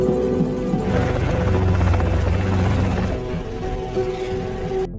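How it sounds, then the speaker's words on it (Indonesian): A private helicopter arriving in London flies close by, its loud, steady rotor chop and engine whine continuing throughout, with no talking. "Richie akhirnya tiba di London menggunakan helikopter pribadinya"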